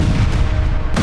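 Explosions from Israeli strikes on residential areas of Lebanon produce a loud, dense, rumbling boom that fills the whole second, with another burst starting at the very end.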